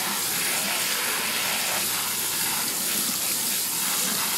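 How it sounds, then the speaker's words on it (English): Quinoa rinsed under a running tap, a steady continuous hiss and gush of water that stays loud and even throughout with no talking. "you've got to rinse it really well or else it's going to taste like crap"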